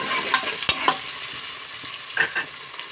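Onions and green chillies fry in hot oil in a pan for aloo chicken curry, with a steady sizzle, a few sharp spatula scrapes and stirs, and nobody talking.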